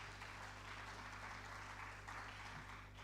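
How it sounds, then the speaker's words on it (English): An audience at a government digital trade workshop applauds in a brief, steady patter of clapping that sounds faint and distant throughout. "please let's give him a round of applause again"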